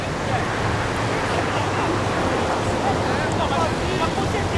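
Steady ocean surf rolls onto a beach in Rio de Janeiro, a loud, continuous wash of breaking waves with wind buffeting the microphone throughout.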